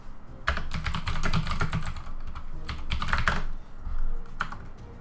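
Rapid keyboard typing while chatting to a team in the Atlas Reactor tactical game, clusters of quick clicky keystrokes in uneven bursts with short pauses, close and clear with no talk.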